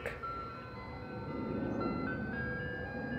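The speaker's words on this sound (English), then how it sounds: "It's another ice cream truck." An ice cream truck's chime plays a low-pitched Turkey in the Straw melody outdoors at moderate distance, the tune running steadily over street rumble and traffic noise, with no voices.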